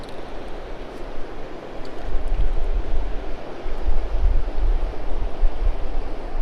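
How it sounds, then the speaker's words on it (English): Wind gusting over the water below an old dam, a steady broadband rush with low rumbling buffets that strengthens after the first couple of seconds, close to the microphone with no talk. "Oh, that wind is whipping through right here."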